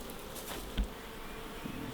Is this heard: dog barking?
no